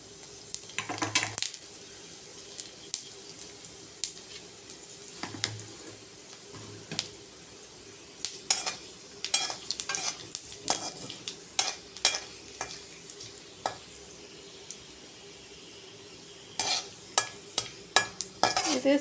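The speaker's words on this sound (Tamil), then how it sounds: "தாளிக்கிறதுக்கு சோம்பு 1 ஸ்பூன், ஒரு 3 கிராம்பு, சின்ன துண்டு பட்டை இதை போட்டு தாளிக்கணும்" Fennel seeds, cloves and a piece of cinnamon tempering in hot oil in a pan, a faint sizzle broken by frequent light clinks and scrapes of a stirring spoon.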